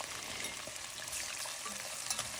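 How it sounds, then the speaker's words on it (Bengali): Onions go into hot oil with cumin and fenugreek for a cabbage and goat meat curry, and a steady, bright sizzle fills the pan up close, with faint stirring and no talk. "এটা যখন একটু ভাজা ভাজা হয়ে যাবে তখন আমি দিয়ে দেবো পেঁয়াজ। এতে এখন দিয়ে দিচ্ছি পেঁয়াজ।"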